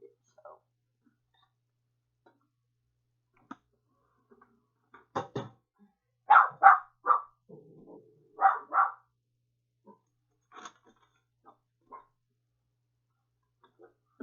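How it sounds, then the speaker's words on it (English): Several sharp dog barks come in two short bursts of two or three, then fade into scattered knocks and quiet gaps, with bits of speech nearby. "I'm sorry about my dog barking."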